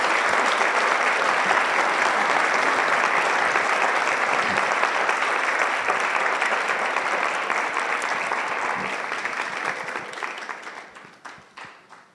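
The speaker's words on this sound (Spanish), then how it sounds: "No sé si él se merezca un aplauso" A conference audience applauds steadily in a large hall, a dense wash of many hands clapping together that holds strong for about ten seconds and then thins out and fades to scattered final claps.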